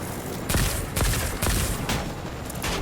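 Loud, close gunfire in the video game Fortnite, with heavy bursts landing about every half second over a constant roar of game noise.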